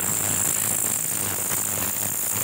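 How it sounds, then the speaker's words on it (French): Crickets and grasshoppers in a Haut Jura meadow make a dense, steady, high-pitched chirring and buzzing that fills the whole stretch evenly, loud and close, with no voices. "ce sont des orthoptères, donc des criquets et des sauterelles"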